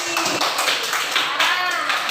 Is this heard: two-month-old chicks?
no